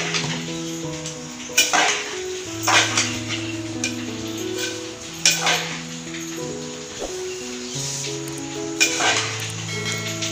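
Coconut burfi mixture being stirred in a pan, with repeated metal clinks and scrapes of the utensil against the pan at an irregular pace over a steady tonal background of music.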